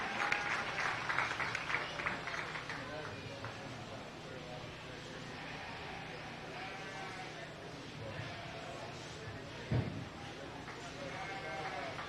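Sustained clapping from a crowd at a 4-H goat and sheep show rolls on steadily, mixed with sheep or goat bleats and murmuring voices in a large indoor space.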